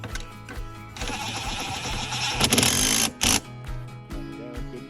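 A ratchet drives a reverse Torx seat bolt on a Dodge Charger or Challenger, giving a steady whirring, clicking run that grows louder and busier midway before ending in a few short bursts.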